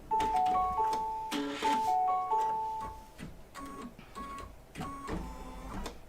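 An embroidery machine stitches a patchwork pets quilt block, its needle chattering in quick mechanical bursts with short whirring runs and brief pauses between stitching passes, close and steady.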